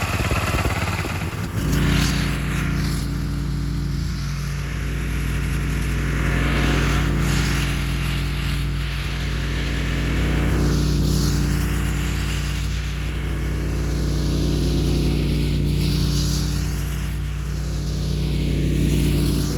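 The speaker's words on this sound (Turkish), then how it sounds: "Bir de üzerine ikinci vitese takıp son gaz dumruklama işlemini yapacağım arkadaşlar." A garden tiller in second gear roars steadily at full throttle while breaking up soil for potato planting. The engine drone is loud, close and continuous, with gentle swells in load throughout and no voices.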